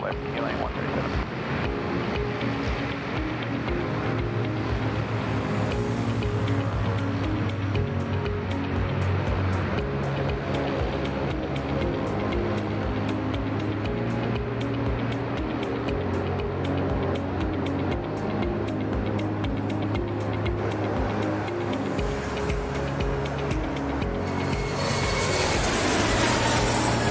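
Airliner taking off from runway 34 left at Sydney Airport, a steady loud roar of jet engines held for the whole stretch with wind-like rushing, swelling near the end.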